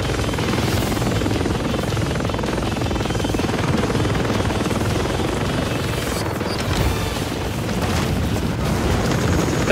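Helicopter rotor noise from Call of Duty Modern Warfare 3 rumbles loudly and steadily throughout, a dense, broadband drone with faint booms mixed into the game soundscape.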